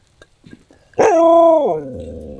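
A dog gives a few soft yips, then breaks into one loud, drawn-out howl that sags in pitch and fades, close by.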